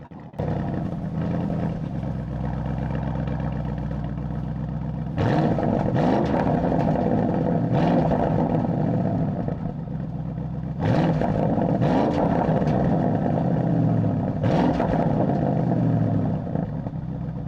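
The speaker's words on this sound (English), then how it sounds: "'20 Porsche Cayenne GTS Coupe, 4 litres V8, 460 horsepower, 620 Newton meters of torque." A 2020 Porsche Cayenne GTS Coupe with a 4-litre V8 idles with a deep, steady rumble, broken by three sharp, loud throttle blips spaced several seconds apart.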